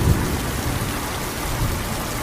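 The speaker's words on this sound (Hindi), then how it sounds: "बारिश और तेज हो गई।" Heavy rain pours down steadily and loudly, with a dense continuous hiss and a low rumbling undertone.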